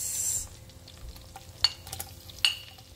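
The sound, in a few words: garlic and onion sizzling in melted butter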